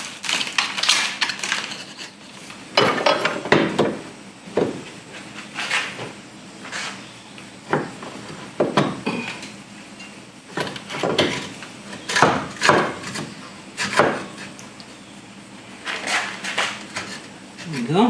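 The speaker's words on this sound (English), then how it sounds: "I'm gonna chip away at some of this dirt that's been piling up in here" Dirt, sticks and rocks being chipped out of a vehicle's differential housing area before the new differential and pin yoke are installed, heard as repeated sharp scraping and knocking bursts, close and fairly loud, with a voice talking between them.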